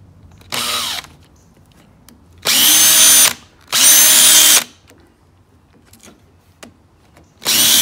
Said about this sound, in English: I'm gonna drill a little pilot hole here first